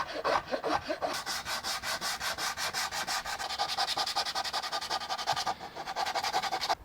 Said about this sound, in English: Now I'll switch over to the flat Iwasaki, and that cleans all those Shinto rasp marks up